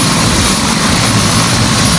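Bell 206 Long Ranger helicopter turbine engine during a slow throttle roll-up, a loud, steady, close roar with constant whine and no talking.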